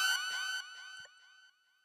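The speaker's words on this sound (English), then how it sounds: "The little Kill Bill siren." Synthetic Kill Bill-style siren sound effect in a trap-influenced hip-hop beat made in Reason 10, a short descending wail with harmonic sweeps that decays in stepped stages into fading echoes, loud and alone.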